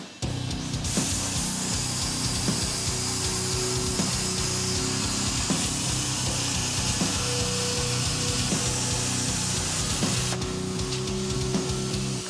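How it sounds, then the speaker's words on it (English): A hand plasma cutter works steadily through a forged steel axe head, giving a loud, continuous hiss and roar with crackling, close and unbroken for the whole stretch, with no speech. "Now, I'm using the hand plasma"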